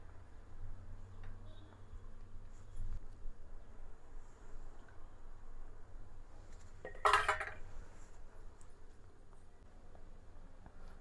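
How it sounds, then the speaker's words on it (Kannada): Utensils clink against a plate and pan while beans palya is served, with faint scraping and one sharp, louder metallic clatter partway through, otherwise fairly quiet. "ಸೈಡಿಗೆ ಬೀನ್ಸ್ ಪಲ್ಯ ಹಾಕ್ತಾಯಿದ್ದೀನಿ"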